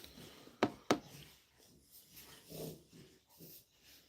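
A dog grunts and snorts while rolling on its back with an itch, two sharp close snorts at the start followed by softer breathy grunts, with no talking.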